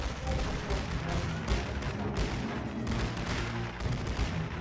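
Gunfire in the Great War Western Front game: a dense, continuous wash of distant rifle fire and booming artillery rumbling together, steady and moderately loud with no clear voices.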